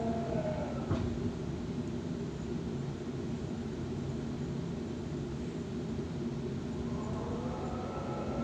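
A Sydney T1 Western Line train running between Parramatta and Richmond, a steady low rumble of wheels and motors heard from inside the carriage, with a faint rising whine near the end and no talking.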